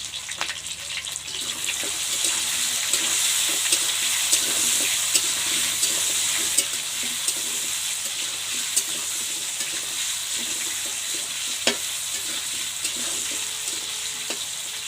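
Desi chicken frying in a pan for a village-style chicken curry, with a constant close sizzle and occasional scraping stirs and clicks of a spatula, no talking.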